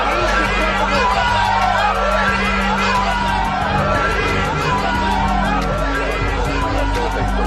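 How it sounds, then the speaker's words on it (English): A crowd gathered outside a hospital chants and clamors, a dense wash of many voices with shouting and babble that stays loud and unbroken throughout, under a low steady hum. "Outside the hospital, the crowd began to chant, Bibi is a murderer."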